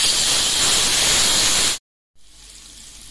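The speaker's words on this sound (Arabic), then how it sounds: "انا هنا خدت معلقه واحده من الدقه، نزلت بقى في الزيت بالشكل ده كده" A spoonful of garlic and chili paste hits hot oil in a pan with a loud, steady hiss that cuts off abruptly, then resumes as a softer, continuous sizzle.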